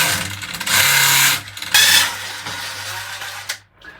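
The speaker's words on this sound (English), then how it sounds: "we're just going to screw this wood into the other wood" A power driver spins screws through wood into other wood while building pantry shelving in a cupboard under the stairs, two loud whirring bursts with pauses between, then a sharp drop to quiet.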